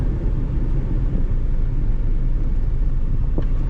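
A 1997 Honda Civic 1.6 EFI automatic runs with a steady, loud low rumble throughout, close by, with no talking.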